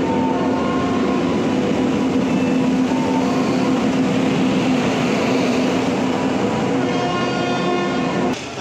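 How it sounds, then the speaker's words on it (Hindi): A passenger train pulls into a platform at an Indian railway station, a loud, steady rumble of rolling carriages with clattering wheels and a sustained horn tone, close by and continuous. "हमारा डब्बा S7 आ चुका है"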